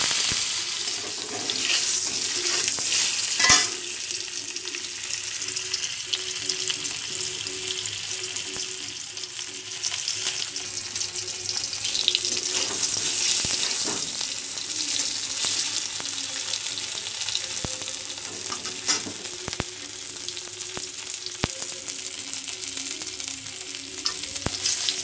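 Potatoes fry and get stirred in a pan for Odia egg curry, a steady close sizzle with occasional scraping and sharp clinks of the utensil against the pan, no talking.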